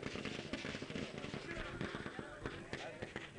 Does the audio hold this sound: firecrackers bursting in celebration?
yes